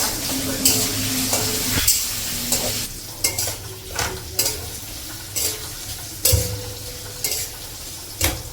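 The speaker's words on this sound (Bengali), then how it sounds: "দিলাম ভাজা ভাজা করে দিলাম।" Food sizzles steadily in a hot pan while a metal spatula scrapes and stirs it in repeated strokes, close and loud throughout.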